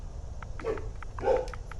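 A few faint dog barks and yips at a distance, two slightly stronger bursts over a low background hum, with no talking.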